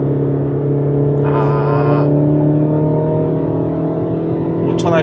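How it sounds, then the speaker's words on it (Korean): A Chevrolet Colorado pickup truck's four-cylinder engine revs steadily under acceleration, a loud continuous drone with a rising tone, and a brief higher whine toward the end. "자, 가속할 때 음색을 한번 들어보겠습니다."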